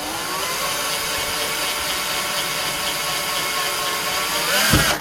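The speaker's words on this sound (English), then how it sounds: "we'll drill that one there first. So just make sure that we get the step bit bang on the centre" A power drill fitted with a step bit cuts a hole through a console monitor input panel. A continuous, loud grinding whir holds steady for several seconds and ends with a short clunk as the bit breaks through.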